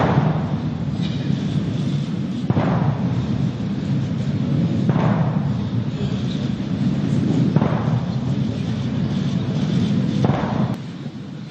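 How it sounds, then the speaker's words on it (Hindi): Deep booming blasts of a 21-gun cannon salute at a presidential swearing-in ceremony fire one after another at steady intervals of about two and a half seconds, resounding over a constant low rumble. "21 तोपों की सलामी। ये जो आवाज सुन रहे हैं आप"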